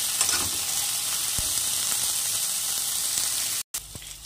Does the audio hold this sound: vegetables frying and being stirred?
yes